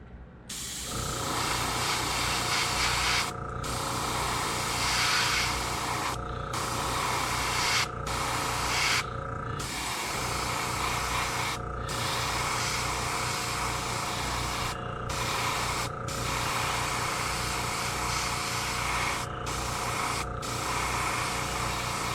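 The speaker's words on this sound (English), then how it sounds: "Let's give a little spray." Steady hissing paint spray on a fishing lure, running continuously and close for the whole stretch, with a constant mechanical hum underneath and brief dropouts.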